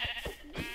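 A sheep in the video game Minecraft bleats in a short wavering call, heard close and fairly quiet on its own over a brief moment.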